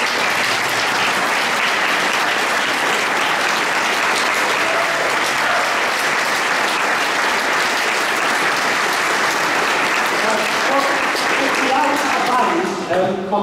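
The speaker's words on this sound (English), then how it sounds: "I want to give a massive round of applause and appreciation to Dave Little" A church audience at a brass band concert gives loud, sustained applause that fills the space for over thirteen seconds, and voices start to come through near the end.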